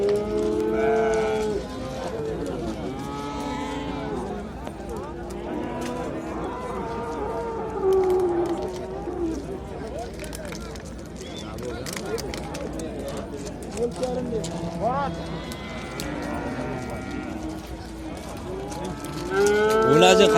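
Cattle at a livestock market low repeatedly, their moos rising and overlapping amid a busy murmur of people bargaining in the background.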